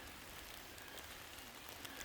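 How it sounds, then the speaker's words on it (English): Steady rain falls during a hike by Devil Lake, a faint, even hiss with a soft patter and no breaks. "It's raining today"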